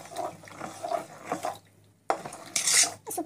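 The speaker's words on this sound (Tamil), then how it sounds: "அது வந்து நல்லா வந்து இப்படி கலக்கி விட்டுக்கணும்" Rice flour batter for vathal is stirred in a metal vessel, with scraping and clinking strokes in bursts, a brief pause and then a brighter clatter near the end.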